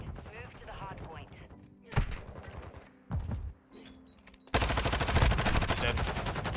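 Gunfire and mechanical clatter from a Modern Warfare 2 ranked match on Mercado, with sharp shots near two and three seconds followed by a sustained loud burst of fire in the final two seconds; talk is heard.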